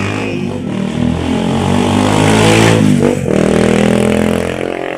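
A motorcycle is ridden along, its engine droning steadily with a low rumble and rising, falling revs, close and loud throughout with no voices over it.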